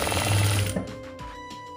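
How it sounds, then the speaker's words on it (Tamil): A sewing machine stitches saree falls, running in a fast, loud mechanical whir up close before it slows and stops, followed by a few fainter clicks. "இதை வந்து இப்படி கரெக்டாக எடுத்து விட்டு எடுத்து விட்டு ஸ்டிச் பண்ணணும்."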